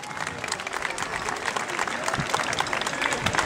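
A lively crowd at a medieval festival in Erice applauds the Aragonese drum and music group from Castelvetrano, loud and close, with dense clapping building slightly and faint voices mixed in the background.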